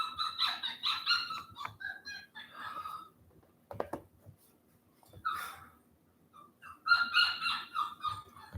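A dog whining in a crate, with repeated high-pitched whimpers and yelps in uneven bursts separated by brief quiet gaps, close by, with no speech.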